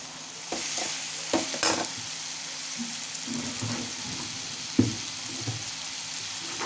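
Three large chopped onions fry in oil in a pan for Maharashtrian baingan bharit, a soft continuous sizzle broken by stirring scrapes and a few sharp knocks of the spoon against the pan.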